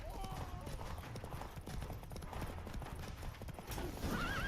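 Roach the horse gallops in The Witcher 3 with a dense, steady rush of hoofbeats over busy game ambience, and a brief whinny-like tone rises near the end.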